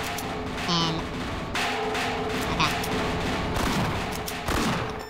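Gunfire in Half-Life (1998) crackles through a dense, continuous game soundscape, with repeated shots and booming impacts layered over loud background noise while a voice talks underneath.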